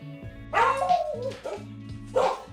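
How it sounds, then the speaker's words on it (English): Several dogs bark in short bursts, close and fairly loud, with a few yips, over a steady low hum. "Dogs."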